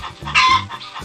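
Chickens clucking close by: short, repeated clucks with one louder squawk in the middle, heard on their own.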